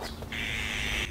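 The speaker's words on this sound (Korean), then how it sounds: "제 새소리 이상하다" An odd bird call in a green summer garden with plum trees, one sustained shrill whistling note that sounds close and holds for most of the moment over faint outdoor background.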